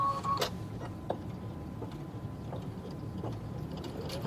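Embroidery machine stitching a quilt panel, a steady mechanical whir with regular clicking and ticking pulses, moderately close and without talk.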